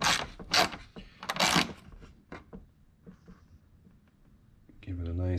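Close ratcheting and metallic clicks as a bolt is hand tightened on a door strap of a Porsche 718 GT4, a few quick bursts then quieter ticks, with a voice speaking at the end.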